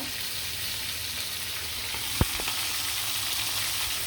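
Chicken pieces frying in a pan, giving a steady, close hiss of sizzling oil throughout with one brief clink partway through; no one speaks.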